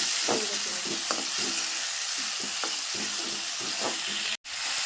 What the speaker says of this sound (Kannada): ಈ ಟೊಮೆಟೊ ಹಣ್ಣು ಫುಲ್ ಸ್ವಲ್ಪ ಸಾಫ್ಟ್ ಆಗೋ ತನಕ ಫ್ರೈ ಮಾಡ್ಕೋಬೇಕು ರೀ